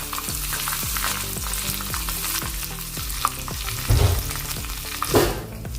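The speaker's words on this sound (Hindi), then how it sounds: "मैंने तड़के के लिए तेल गरम किया है। अभी हम इसमें राई डालेंगे, राई और जीरा। थोड़ा सा कड़ी पत्ता डाल देंगे।" Mustard seeds, cumin and curry leaves sizzle in hot oil for a tadka, a close, steady frying hiss with a couple of sharper crackling spurts partway through.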